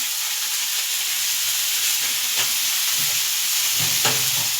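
Chopped vegetables sizzle loudly and steadily in hot oil for egg chow mein, a dense continuous frying hiss with a few soft stirring knocks.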